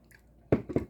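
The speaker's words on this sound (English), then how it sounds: "Let me take a sip of water." A person takes a sip of water: a quiet pause, then two close, soft wet gulps or swallows a moment apart, near and alone.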